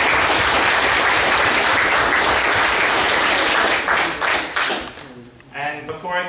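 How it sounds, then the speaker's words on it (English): An audience at an electoral reform town hall meeting claps to welcome speakers, a loud, dense round of applause that thins out and fades toward the end. "extend a warm round of applause"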